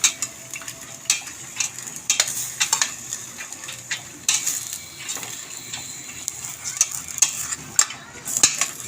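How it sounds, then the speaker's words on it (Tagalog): Sautéed mung beans (ginisang munggo) being stirred in a pot produce repeated spoon-on-metal clinks and scrapes over a quiet bubbling simmer, uneven in rhythm and close to the listener. "Pakatas-katasin muna natin, Loads, ang ginisang munggo."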